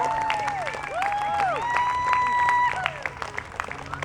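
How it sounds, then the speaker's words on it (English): A crowd applauds hula dancers at a Hawaiian performance, clapping and some cheering rising mid-clip and then thinning out, with whistled or vocal tones and voices mixed in. "Let's give a round of applause for na e lele hula."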